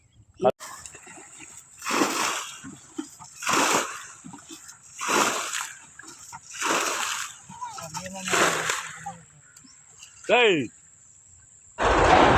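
Fish splashing in a small village fish pond, a series of sharp, close bursts of water slapping at roughly one-second intervals, with a voice speaking between them.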